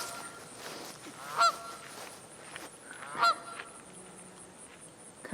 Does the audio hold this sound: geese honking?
yes